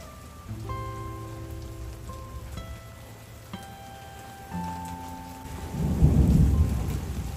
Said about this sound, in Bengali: বাপ রে, মেঘের গর্জন দেখেছেন?